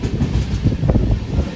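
Kacheguda to Mangaluru weekly superfast express running as it enters Tamil Nadu: a steady, loud rolling rumble with faint rhythmic clatter from the carriages, continuous throughout with no voices.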